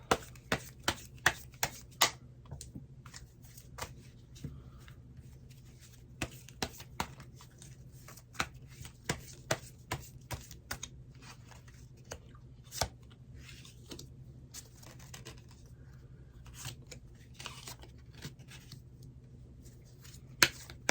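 Tarot cards shuffled for a reading, a steady run of quick crisp flicks and snaps at close range, with no talking.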